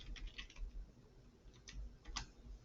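Light, quick keystrokes on a computer keyboard, typing a word in short bursts; soft, close clicks over a quiet background hum.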